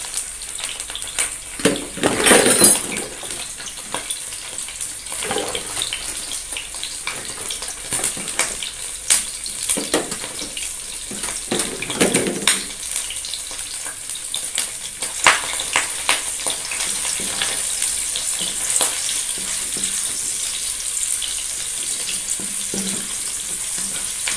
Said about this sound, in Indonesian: Kemudian kita tumis bawang putih, bawang merahnya.